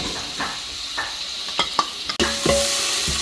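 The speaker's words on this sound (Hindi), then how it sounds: "तो ऑयल हमने ऐड किया है दिचकी में। अब हम ऐड करेंगे इसमें प्याज।" Onions frying in hot oil in a pot for chicken pulao, a close hissing sizzle punctuated by metal spoon clinks and stirring, swelling louder as the onions hit the oil.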